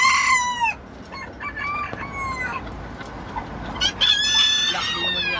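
Several Bantam chickens clucking and calling close by, a rooster among them, in repeated bursts over a steady farmyard background with no talk.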